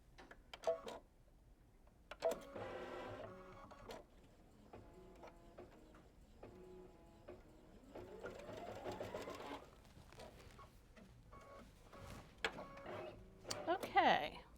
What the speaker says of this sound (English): I'm going to stitch the batting placement line